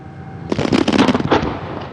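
Fireworks shells from a large New Year's Eve display go off in a sudden loud burst of sharp crackling pops that rattles for about a second, then fades into a short decaying rumble.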